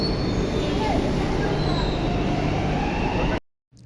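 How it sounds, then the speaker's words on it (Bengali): A metro train pulls into the station with a loud, steady rumble and rail noise, and a faint squeal of wheels runs over it, all close by until the sound cuts off abruptly near the end. "এদিকে আমার মেট্রো চলে এসেছে"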